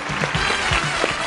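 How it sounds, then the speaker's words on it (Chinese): A studio audience at a Beijing TV dating show claps steadily to welcome a female guest, a brief, continuous patter of applause at moderate level with a few low voice fragments underneath. "掌声有请3号女嘉宾。"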